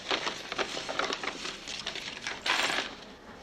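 Coins and keys emptied onto a counter, a busy metallic jingle and patter of clinking pieces with a louder clattering spill near the end, close and alone.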